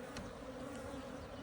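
Aggressive honey bees swarm around a hive with a constant, faint, close buzzing drone that fills the whole brief moment, with no voices.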